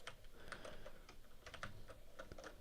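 Fingers type on a computer keyboard in quick, uneven bursts of close, crisp key clicks with short pauses, heard alone without any voices.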